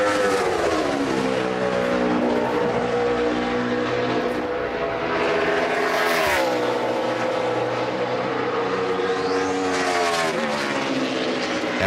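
Close, loud engine of a 2013 NASCAR race car on a qualifying lap, a steady high-revving drone that holds pitch with brief gear-related shifts and a Doppler-like swell as it passes.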